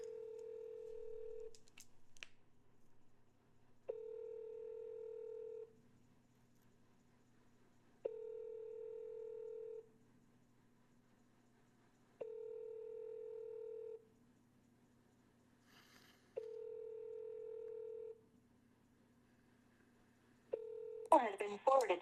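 A phone line rings out on an outgoing cold call: about six evenly spaced ring tones, each lasting roughly two seconds with pauses between, clear and alone, before a voice begins at the very end.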